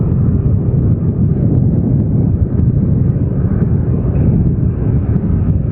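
Strong wind roars steadily across a bridge in Kediri, a loud continuous low rumbling buffet with gusty fluctuations and no talking.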